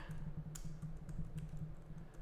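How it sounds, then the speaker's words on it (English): Quiet, steady clatter of keys on a computer keyboard as a domain name is entered, with several quick keystrokes over a low constant hum. "and then we just type in the domain name."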